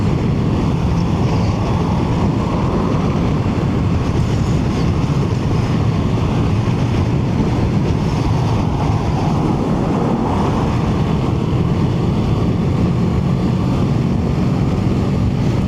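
A Kawasaki Ninja 7 HEV hybrid motorcycle cruising in sixth gear at speed gives a steady, loud engine drone under heavy wind buffeting, continuous throughout.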